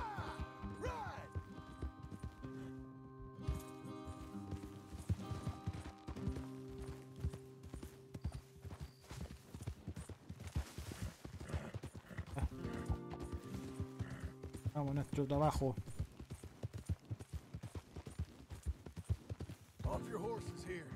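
Horses walk in Red Dead Redemption 2, their hooves clip-clopping in a steady, moderately close rhythm with occasional snorts. Characters talk in Spanish over the hoofbeats.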